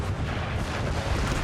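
Artillery fire in the video game Empire: Total War, a low rumbling boom with continuous battle noise, loud and close, no talking.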